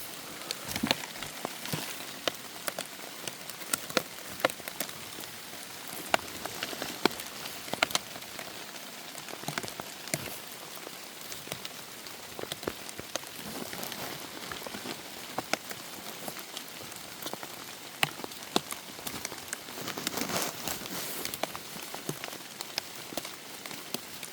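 Monsoon-season rain falls steadily on surfaces outdoors, giving a soft, even patter with scattered sharper drops tapping close by throughout, and no voices.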